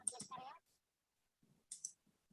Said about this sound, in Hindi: एक्सपैंड करने के बाद इसको क्लिक करिए।